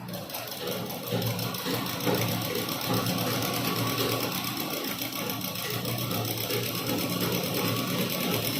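A sewing machine runs steadily, stitching two pieces of a churidar together, a continuous mechanical whirr that holds at an even level for several seconds, close and alone.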